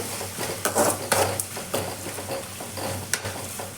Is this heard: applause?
no